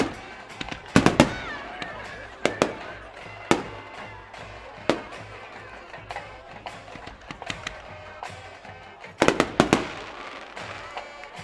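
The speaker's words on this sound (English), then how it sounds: "Let's watch the fireworks here." Fireworks burst after a high school football championship win at Centerburg, Ohio, with sharp, loud bangs and crackling pops coming in irregular clusters, some in quick doubled volleys, over a low outdoor background.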